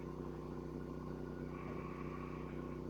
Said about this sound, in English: Ooh, I can hear the generator working.